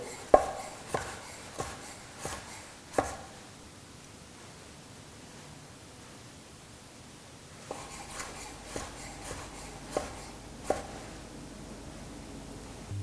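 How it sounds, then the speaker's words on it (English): A knife cuts thin slices of shiitake mushroom on a board, several crisp taps in a quick run, a pause, then another series of sharper chops, close and clear over faint background hiss. "we'll do the same with a couple of these shiitakes, nice and thin"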